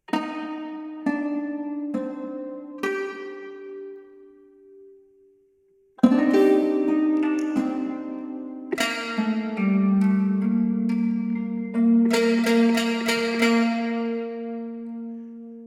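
Sustained qanun notes plucked with finger picks, a few ringing single tones that decay, a short silence, then a louder, busier run of sustained plucked notes, played alone with no talk.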